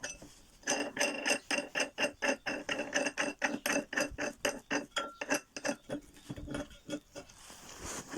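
A homemade workbench vise being tightened with its key gives a close, steady train of sharp metallic clicks and squeaks in an even rhythm, about two or three per second, before trailing off.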